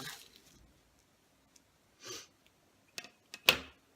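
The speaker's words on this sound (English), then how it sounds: "Sorry for the sniffles." A few quiet allergy sniffs and breathy snorts, scattered and close, with near silence between them.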